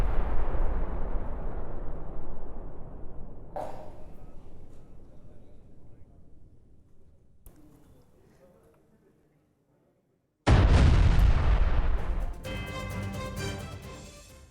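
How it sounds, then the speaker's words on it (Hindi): A bomb blast destroying a Hezbollah tunnel in southern Lebanon: a loud, deep rumbling roar that slowly fades over several seconds, then a sudden second heavy burst of noise that stays loud to the end. "बॉम्ब लगाकर सुरंग को नष्ट किया गया।"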